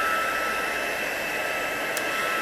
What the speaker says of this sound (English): I'm just going to run the heat tool over it quickly